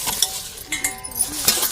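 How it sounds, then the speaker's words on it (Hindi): Metal utensils and dishes being washed and scrubbed, with bright clinks and clanks at irregular intervals over a wet scraping, close and fairly loud. "अब हम चली माजी धोई एक खाचा बर्तन धई देत गए"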